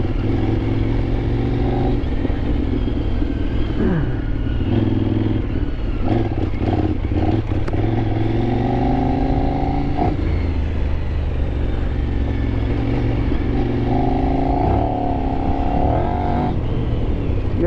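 Kove 800X adventure motorcycle being ridden on tight trails, its engine droning steadily close up with rising and falling revs as the rider shifts, continuous and loud throughout.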